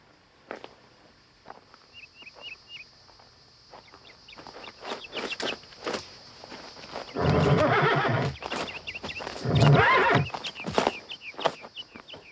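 A horse whinnies amid clip-clopping hooves and other farm animals in an outdoor Western setting, with bursts of louder movement and calls scattered over a quiet background.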